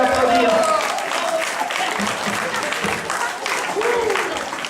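Applause from a small audience for a street performer, a steady patter of clapping throughout with voices mixed in over it.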